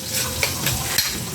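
Onions sautéing in a hot pan give a steady, close sizzle with soft stirring scrapes, heard alone without talk.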